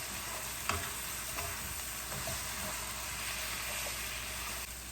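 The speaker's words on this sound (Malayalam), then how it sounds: "1 ടീസ്പൂൺ ഗരം മസാല ഇതിലേക്ക് ഇട്ട് കൊടുക്കണം. എന്നിട്ട് നല്ലതായിട്ടൊന്ന് ഇളക്കണം" Beef masala spices, including garam masala, are stirred as they fry in hot oil, a steady close sizzle with faint scraping strokes throughout.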